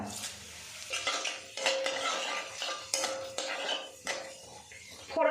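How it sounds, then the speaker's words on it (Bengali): Whole cumin, dried chillies and bay leaf tempering in hot mustard oil in a kadai, a crackling sizzle broken by repeated metal clanks and scrapes of a spatula against the pan. "এবার এই কড়ার মধ্যে দিয়ে দেব সরিষার তেল তেলটা ভালো মতো গরম হয়ে গেছে এবার এর মধ্যে ফোড়ন হিসেবে দিয়ে দেব গোটা জিরে গোটা শুকো লঙ্কা আর দিয়ে দেবো তেজপাতা"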